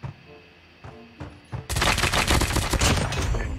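Gunfire in the mobile shooter Call of Duty Mobile: a few scattered single shots, then a loud sustained burst of rapid automatic fire that continues to the end.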